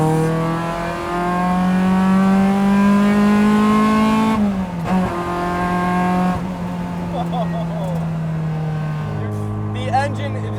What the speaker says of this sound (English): This thing revs so damn quickly.